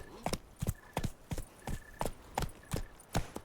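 Horse hooves in The Witcher 3 clatter in a steady, rhythmic galloping clip-clop, loud and close, with about nine sharp beats across the stretch and no talking.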